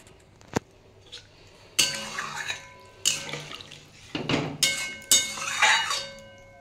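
Water splashes and pours into a pan of fried potatoes being cooked for a fish roe and pointed gourd curry, arriving in several loud bursts with clinks of utensils against the pan.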